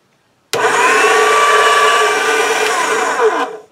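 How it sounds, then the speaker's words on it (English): A motorized pasta machine runs polymer clay through its rollers on the number one setting, a loud continuous motor whine that starts abruptly, holds steady for about three seconds, then cuts off. "I'm just going to turn my motor on and run this through"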